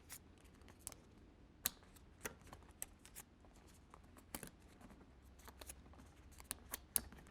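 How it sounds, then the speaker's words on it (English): Paper fan-folded at one-inch intervals for an expandable mini photo album, a series of sharp crisp creases and snaps scattered over quiet soft rustling, close and alone. "And then I'm just going to fan fold"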